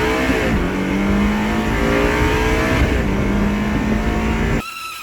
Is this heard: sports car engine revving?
yes